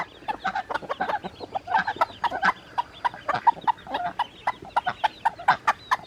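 Backyard homestead hens cluck rapidly and repeatedly to call their chicks to food, a busy stream of short, close clucks overlapping one another with no talk.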